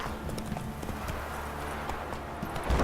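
Roach, a horse in The Witcher 3: Wild Hunt, gallops with a quick, continuous clatter of hooves, close and fairly loud, ending in a heavier thud or two.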